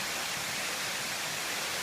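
A waterfall on a winter hike through the Grand Canyon produces a dense, even rushing roar that holds steady throughout, with no talking heard.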